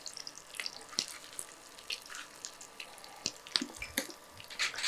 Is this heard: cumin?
yes